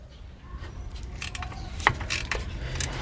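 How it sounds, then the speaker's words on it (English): Quick metallic clicks and ratcheting of a 15mm speed wrench turning a bolt on a Jeep Grand Cherokee 3.6 starter mount, a few close, quiet taps and one sharper snap over low background rumble. "We're going to use our 15mm speed wrench."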